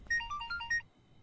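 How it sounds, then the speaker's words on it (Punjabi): A short, quiet electronic phone ringtone plays a bright melodic pattern of beeping tones for under a second, then stops. "ਇਹ ਕਿਹਦਾ ਫੋਨ ਆ ਗਿਆ"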